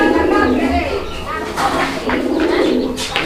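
Pairs of desi fancy pigeons at a seller's stall coo close by in repeated throaty calls, mixed with nearby voices.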